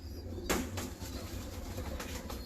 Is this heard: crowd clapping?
no